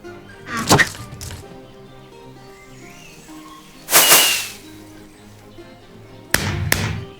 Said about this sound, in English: Firework.